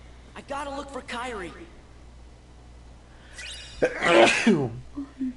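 A single sharp sneeze during a Kingdom Hearts 2 play session, heard after someone speaks, with a brief game-music tone between them.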